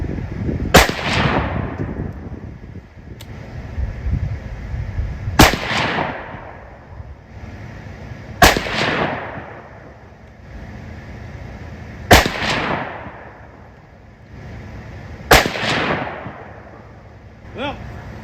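A .223 rifle fires reloaded rounds with AA2520 powder, five loud, sharp shots spaced a few seconds apart at an outdoor range, each with a ringing tail.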